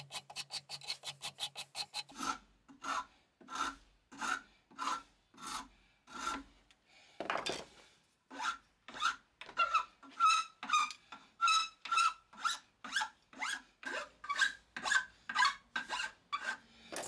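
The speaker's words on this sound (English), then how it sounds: "then I just finish it off using a normal rasp and sand everything down" A hand rasp files a wooden chisel handle in steady, rhythmic strokes, about two per second, close and loud. The strokes pause briefly, then resume at a slightly quicker pace, with no voices.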